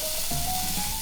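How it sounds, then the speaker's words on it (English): Flank steak searing in hot canola oil in a cast iron pan makes a loud, close, continuous hissing sizzle with a faint tonal whine running through it and no voices. "let's stick our flank steak right in there"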